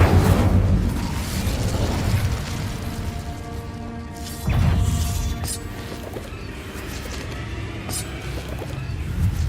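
Incendio fire spell cast in Hogwarts Legacy gameplay: a loud, booming fiery burst up front, a second blast about four seconds later, and crackling, roaring flames and clatter running between and after them, with no talk.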